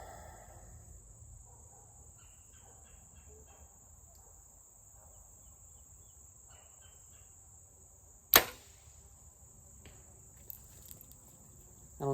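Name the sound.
arrow hitting a distant target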